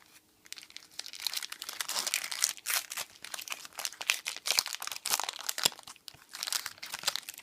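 A Magic Origins booster pack's foil wrapper crinkles and tears open close up, with steady irregular crackling and crunching from the plastic over several seconds, fairly quiet and with no voices.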